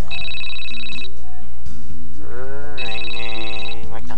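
A telephone rings in the detective video game Case Closed, an electronic ringtone with bright repeating tones in two bursts separated by a pause, loud and clean, while someone talks over it.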